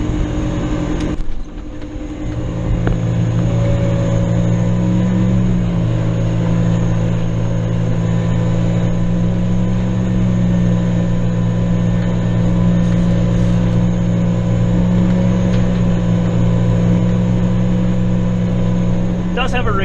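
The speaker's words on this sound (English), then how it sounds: "So I'm going to turn the header on, rev it up, and let's get ready to go." An alfalfa mower's header engages and the engine revs up to a loud, steady drone that holds close and constant for about twenty seconds after a brief dip near the start.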